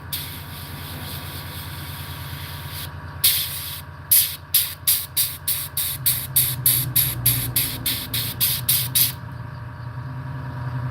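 An airbrush sprays light gray paint onto a striped bass and hybrid bass pattern, sending out a rapid run of short, loud hissing bursts in a steady rhythm over a constant background hum.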